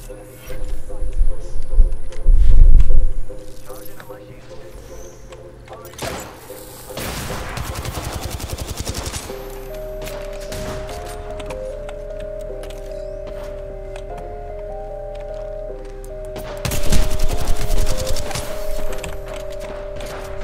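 Enemy gunfire in Apex Legends crackles in loud rapid bursts, first briefly, then a longer volley, and again near the end, separated by calmer stretches of game sound and people talking.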